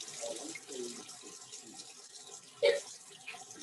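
Tap water running into a lab sink for rinsing during an aspirin synthesis, a steady soft hiss with a brief louder splash near the end.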